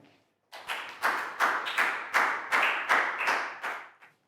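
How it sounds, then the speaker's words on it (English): A small primary class applauding a classmate, Nadia, with a short run of roughly a dozen distinct close claps in quick irregular succession, starting after a brief silence and tapering off near the end. "Big round of applause for Nadia"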